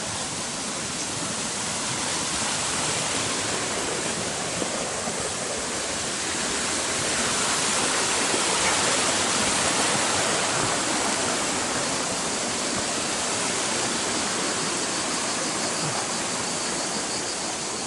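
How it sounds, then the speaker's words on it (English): The Monachil river in Spain rushes and cascades in a loud, continuous broadband roar of churning water that holds steady throughout with no voices. "all of this water in the middle of Spain, 30-40 degrees, and there's so much water"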